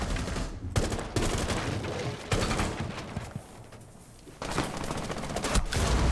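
Rapid bursts of automatic gunfire from a teammate in the tactical shooter Rainbow Six Siege, loud and close, firing in repeated volleys with brief pauses across the whole stretch and no talk over it.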